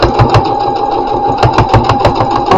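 Sewing machine stitching through a double layer of fabric for a snood, a close, loud, fast mechanical whirr with rapid rhythmic ticking from the needle, running continuously without talk.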